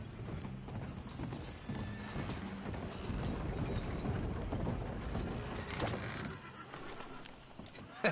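Horse hooves clip-clop steadily in the Red Dead Redemption 2 video game, a rhythmic series of hoofbeats with faint mechanical creaks and background ambience, no speech over it.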